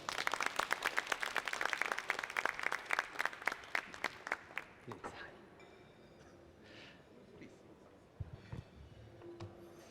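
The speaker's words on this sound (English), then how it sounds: "Please give a warm applause to him." Audience applause greets an award winner from Beihang University's Aerospace College as he comes on stage at the IAC 2023 science and academic luncheon. Dense clapping is loud at first, then thins and fades to scattered claps and room noise by halfway.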